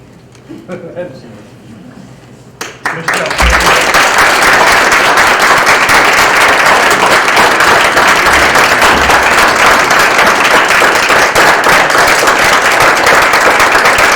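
Loud, sustained applause from an audience at a school board reorganization meeting, erupting suddenly after a few quiet seconds and continuing densely to the end, with a voice briefly heard before it begins.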